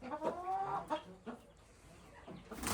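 Backyard chickens and roosters cluck in soft, uneven calls, fairly close but quiet, with a few louder squawks early on and a stretch of near silence before the sound rises again.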